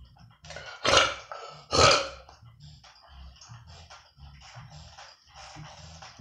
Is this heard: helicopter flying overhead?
no